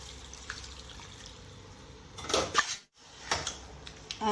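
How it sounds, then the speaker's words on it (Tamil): Water trickles and splashes into a cooking pan with onions for egg chops gravy in short bursts, close by, with a brief pause partway through. "இப்போ தண்ணி ஊற்றி கொதிக்க வச்சுக்கலாம்"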